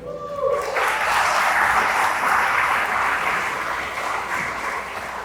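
Graduates and guests applaud at a Northwestern commencement ceremony, a dense, loud wash of clapping that sustains steadily for several seconds with little variation.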